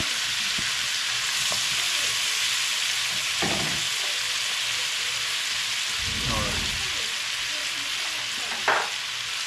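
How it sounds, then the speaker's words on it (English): Vegetables sauté in butter and bear grease with a steady, loud sizzle, broken by a few scraping stirs. "now we're gonna get our veggies starting to saute"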